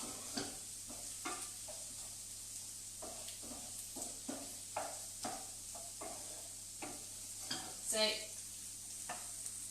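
Potato and carrot pieces frying in a pan on the cooker for vegetable pasties, with a continuous sizzle broken by repeated scraping stirs at an irregular rhythm, close and fairly clear; a voice briefly speaks.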